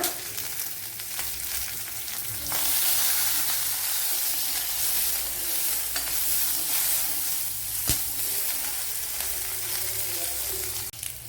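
Curry leaves hit hot oil with green chillies for a Kerala soya chunks curry, and the sizzle surges into a loud, steady crackling hiss, with a couple of sharp clicks of a utensil.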